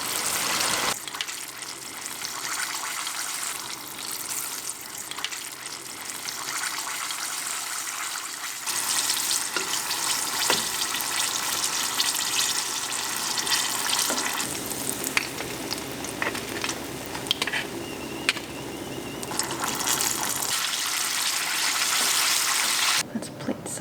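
Japanese karaage chicken on its second deep fry in hot oil makes a dense, hissing bubble that shifts in intensity through a long, continuous stretch.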